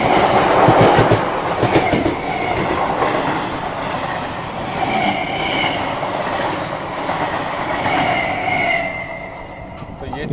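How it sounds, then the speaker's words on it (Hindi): Coromandel Express rolling along an Indian railway line: a steady, loud broadband rumble of wheels on track, with faint metallic squeal tones drifting in and out for about ten seconds. "ट्रैक साउंड आ रहा है, मतलब गाड़ी आ रही है।"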